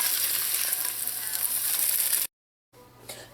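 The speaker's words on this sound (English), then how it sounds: "I'm just going to allow this tofu to get brown on all sides." Tofu fries and browns in hot oil in a pot, giving a loud, dense sizzle that cuts off abruptly near the end, then returns more quietly with a brief clatter.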